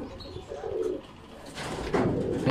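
Racing pigeons coo in low, throaty bursts, with a few separate calls rising over steady outdoor background noise; no one speaks.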